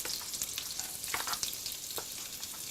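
Garlic and ginger frying in oil in a pan, a dense, bright crackling sizzle with quick stirring scrapes, close and steady for a few seconds.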